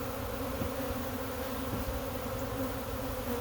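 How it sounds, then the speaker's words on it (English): A honey bee swarm flies around outdoors near a tripod, a steady dense buzzing hum of many bees that holds evenly throughout, close and continuous with no talk. "There's a lot of bees flying."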